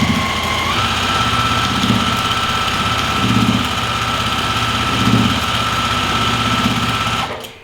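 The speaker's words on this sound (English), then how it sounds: "I'm gonna stitch" A sewing machine runs fast and steadily, stitching a pillow with a loud, continuous motor hum and a rapid needle rhythm. It winds down abruptly at the end, with no talking.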